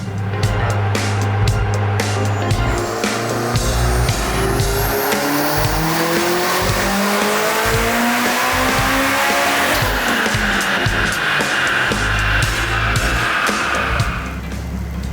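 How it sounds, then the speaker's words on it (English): A Mitsubishi Evo X engine on a dyno roars loud and close, its pitch climbing in long sweeps toward redline, then holding high and dropping off near the end. "this motor, like I said, just wants to rev up. It's on an uphill right when it hits red line still."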